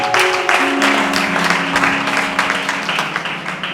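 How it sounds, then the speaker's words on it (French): A congregation claps hands in praise at a church service, a dense, steady wash of many hands close and loud, with sustained musical tones underneath throughout. "Clap your hands for Jesus."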